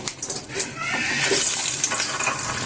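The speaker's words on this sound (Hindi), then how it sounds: "30 मिनट के बाद ये दोबारा मैंने ऑयल में डाल दिए हैं" Potato french fries go back into hot oil for a second fry, giving a dense, close, continuous sizzle with bubbling crackle.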